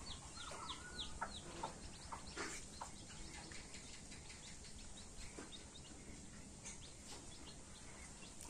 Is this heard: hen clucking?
yes